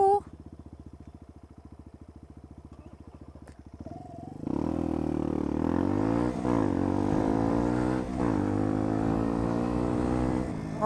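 Motorcycle ridden through London traffic, its engine putting steadily at first and then revving loud and close with rising and falling pitch through gear changes, with someone talking over the engine.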